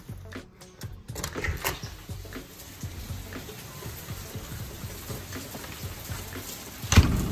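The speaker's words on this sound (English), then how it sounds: "raining pretty good out. I'm gonna get absolutely soaked doing this" Steady rain falls outdoors and floods a sidewalk, a soft, even patter of drops with scattered louder splashes and a brief sharp knock near the end, with no talking.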